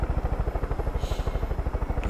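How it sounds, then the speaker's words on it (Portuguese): A helicopter in the Far Cry 5 video game, its rotor thumping in a steady fast rhythm close up and loud, with a brief hiss partway through. "Eu vou deixar o meu helicóptero aqui, que eu não sou bobo."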